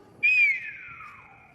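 A single loud whistle blast rings out during a historical dance lesson, a clear high tone that starts sharply, holds, then slowly falls in pitch and fades over about a second, with no talking.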